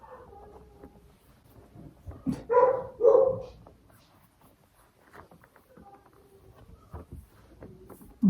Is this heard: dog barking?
yes